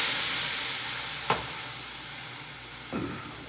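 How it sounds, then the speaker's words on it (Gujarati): A fading hiss of hot oil tempered with red chilli, broken by two brief sharp bursts of sizzle as water splashes into the pan, alone without talk. "વઘાર બરી ના જાય એટલા માટે પાણી રેડીશું"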